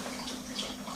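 Water trickles into flour as dough is mixed by hand, a faint, steady, soft pouring and sloshing with no voices.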